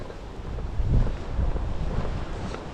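Strong wind buffets the microphone in heavy rumbling gusts, swelling and easing without pause.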